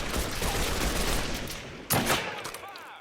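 Rapid video-game gunfire rattles as a dense, continuous fusillade, then cuts to a sharp loud burst near the two-second mark followed by scattered fainter shots and ricochet-like tails.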